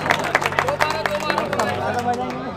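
Audience at a mushaira poetry gathering in Maharashtra claps in a burst of quick, uneven applause mixed with crowd murmur and a voice talking over it.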